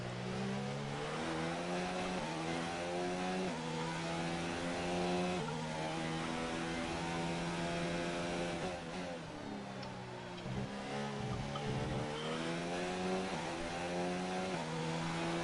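Formula 1 race cars from a racing game at the Canadian circuit howl close together, with high engine notes rising and falling through repeated upshifts and downshifts as the cars run nose to tail. The sound is continuous and loud.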